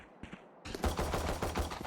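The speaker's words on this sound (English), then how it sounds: "I think they have heard some gunshots" Rapid bursts of gunfire from the video game Valorant, a faint shot or two first, then a loud sustained volley of automatic fire with no talk.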